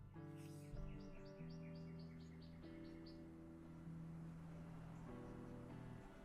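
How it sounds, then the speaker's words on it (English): Birds chirp and sing outdoors in a quiet series of short repeated calls, heard faintly through a room that carries a steady low hum. "I don't know if you can hear the birds outside."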